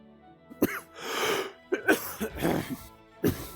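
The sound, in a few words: person coughing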